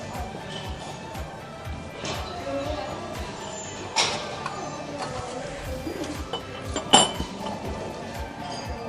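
A Greek-style ceramic sugar pot is handled in a thrift store, giving a few faint clinks and knocks, with a sharper clink near the end, over low ambient store noise.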